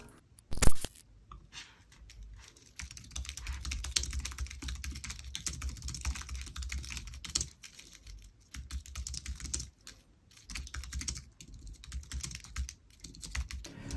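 Clattering keys of an Apple Magic Keyboard 2 with an aluminium body, typed steadily and close up for the full length, a dense run of light rattling clicks with brief pauses and no voices.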